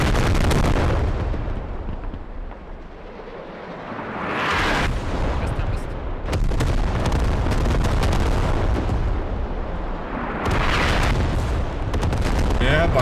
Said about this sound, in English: Yep, artillery just going off.